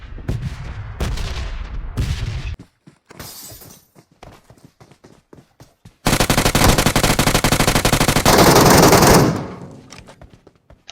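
Explosions and rapid gunfire fill a video game battle: sharp bursts and single shots at first, then a loud sustained barrage of automatic fire and blasts that fades out near the end.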